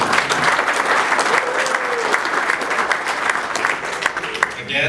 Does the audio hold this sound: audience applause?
yes